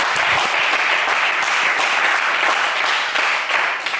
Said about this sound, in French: mais on applaudit Jérémy, s'il vous plaît.